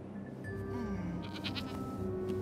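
Goats bleating in a cartoon scene, a few wavering cries over a steady background of music and ambience, fairly quiet and without talk.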